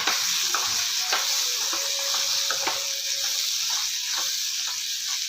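Cluster beans frying in a pan with tomato and salt, stirred with a soft, steady sizzle and scraping strokes throughout, no voices.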